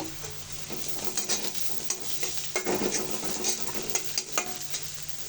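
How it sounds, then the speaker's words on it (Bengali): Chopped onion and green chilli fry in a pan, a steady close sizzle broken by repeated scraping stirs of a spoon against the metal. "পেঁয়াজটা একটু ভাজা হলে দিয়ে দিব কাঁচামরিচ কুচি। কাঁচামরিচটাও ভেজে নিব।"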